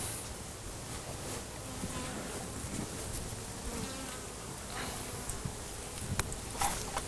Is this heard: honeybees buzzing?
yes